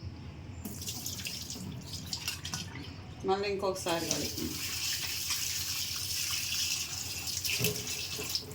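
Dried fish, netthallu caught from the sea, being rinsed of sand in water, with splashing and sloshing of water in a bowl heard close up under a person talking.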